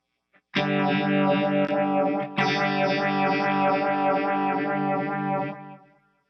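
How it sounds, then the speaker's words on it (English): An electric guitar runs through a Keeley Vintage Phaser in 6-stage mode, two sustained chords ringing loud and close with a sweeping, swirling oscillation before fading out. "let's take that same sound and move to the 6-stage phaser and see what it does"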